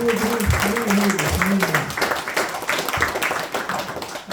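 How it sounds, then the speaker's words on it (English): A gathering at a Bhagavad Gita study session gives the kids a round of applause, a brief burst of clapping mixed with a voice speaking over it. "Please give a round of applause for the kids."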